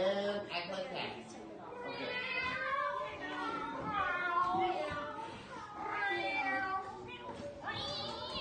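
A group of people at an art gallery event imitating cats, overlapping meows and yowls in a continuous, lively chorus with some chatter mixed in.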